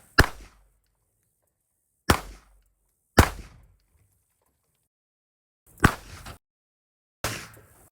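Five sharp, loud gunshots from a 9mm Glock 17 pistol, fired at uneven intervals, each a crisp crack with a short decaying tail and silence between; no talking.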